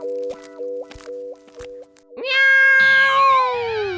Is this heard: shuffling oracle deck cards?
no